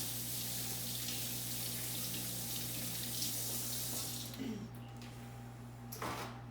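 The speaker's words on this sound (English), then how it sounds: "I'm going to wash my hands again in soap and water to get that egg off" Hands being washed with soap under a running kitchen sink tap, a steady close rush of water that breaks into brief splashes and rubbing near the end, with a low hum beneath.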